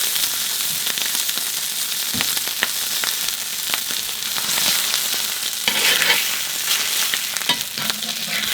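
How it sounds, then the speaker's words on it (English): A Walmart ribeye steak sears in a hot oiled pan, a loud steady crackling sizzle with occasional pops and spatters, heard alone without speech. "I'm just gonna flash sear it."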